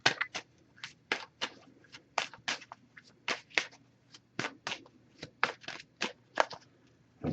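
An oracle card deck is shuffled by hand in a quiet room, a series of crisp riffling bursts and soft slaps at an uneven rhythm, close and fairly faint.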